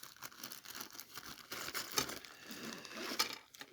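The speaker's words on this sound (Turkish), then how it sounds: "Şimdi poşetimizi açalım." A plastic bag is opened during a product unboxing, giving soft crinkling and tearing rustles that run throughout, close and fairly quiet, with a couple of sharper crackles and no talking.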